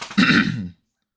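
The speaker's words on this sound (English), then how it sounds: "I do apologize for coughing." One short, gruff cough, like a throat being cleared, close by and followed by silence.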